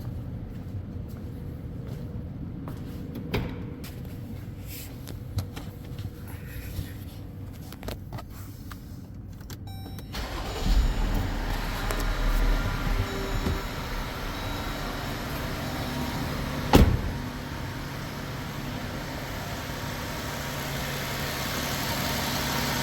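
An engine cranks and catches around the midpoint, then settles into a steady, fairly quiet idle with a low continuous rumble.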